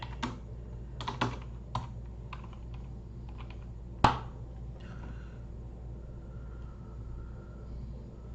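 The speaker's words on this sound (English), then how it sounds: "let me type in 1911 Taal eruption." Several bursts of typing on a computer keyboard while a search is entered, with close, crisp key clicks in quick clusters, then a single louder key press and quiet room rumble.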